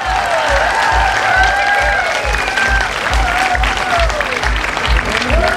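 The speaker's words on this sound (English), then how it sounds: "Let's have a huge round of applause here" A crowd at an outdoor costume parade applauds steadily in a full wash of clapping, with rhythmic thumping beats and some voices and cheering mixed in throughout.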